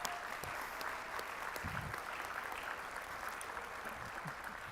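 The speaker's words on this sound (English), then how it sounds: "If we could give a round of applause for Bill." Applause from the audience at a sports media awards ceremony, a soft, distant and evenly sustained wash of clapping across a large room, with faint low murmurs underneath.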